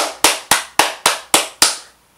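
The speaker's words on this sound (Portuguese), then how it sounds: "eu só aplaudo" One person clapping hands, seven sharp, evenly spaced claps close by, each ringing out briefly before the next, with no other sound around them.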